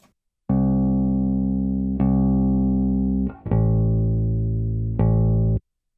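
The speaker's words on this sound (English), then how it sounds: "So that is our bass guitar." Deep, heavy bass guitar notes played close and loud, several long sustained tones changing pitch in a slow pattern, with no voices.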